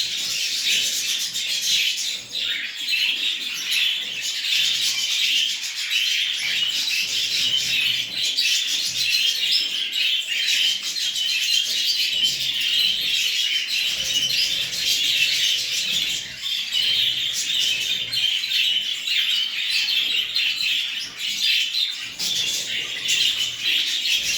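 Caged cockatiels give a steady, dense stream of bright chirps and squawks throughout, fairly close and loud, with no talking over them.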